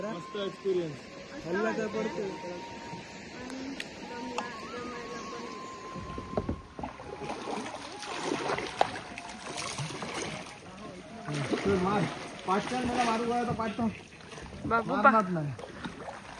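Kayaks are paddled on water at Khavne in Vengurla, Konkan, with soft splashes and paddle strokes heard under people talking throughout.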